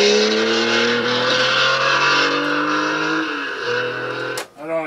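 A biphonic sound test tape plays through a Magnavox D8443 cassette radio boombox, producing sustained swooping tones much like a car engine revving and racing, loud and close, ending with a sharp sweeping burst.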